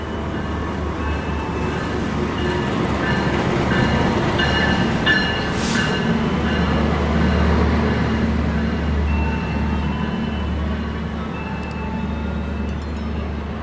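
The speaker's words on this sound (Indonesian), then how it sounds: "Bentar lagi bakal ada kereta yang masuk di jalur 3 kereta Argo Lawu ya, dari Solo Balapan tujuan ke Gambir." The Argo Lawu train from Solo Balapan to Gambir rolls into platform 3 at Pasar Senen station, a continuous heavy rumble of wagons with faint tonal squeals and a brief hiss, loud and close, with no talking.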